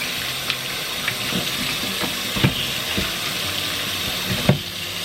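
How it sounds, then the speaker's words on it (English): Tap water runs with a steady hiss while fresh beets are rinsed under it, with scattered knocks and splashes as the roots are handled, close and fairly loud throughout. "And now I'm going to rinse these beets and chop off the knobbly bits from either end."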